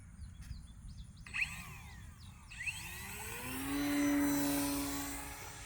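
A Horizon Hobbies Sport Cub RC airplane's motor spins up from long grass into a rising, steady whine that swells and then holds, heard alone at moderate distance after some faint clicking.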